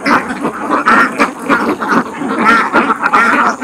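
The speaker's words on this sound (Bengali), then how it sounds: "এটা হচ্ছে হাওরের মাঝখানে একটা বাথান, যেটা হচ্ছে হাঁসের বাথান।" A flock of ducks in a pen in the middle of Hakaluki haor, wetland, quacking loudly and close in overlapping, irregular bursts throughout a few seconds.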